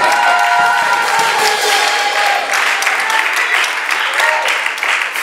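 A church congregation breaks into sustained applause and cheering for the Lord, a dense, loud wall of clapping with scattered shouts running throughout.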